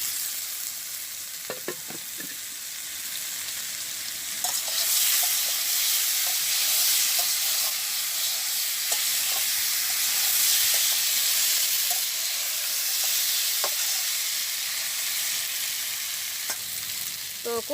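Pumpkin sautéed in a pan in a village kitchen, giving a steady sizzle and fry hiss throughout, with scattered scrapes and taps of stirring, up close and alone.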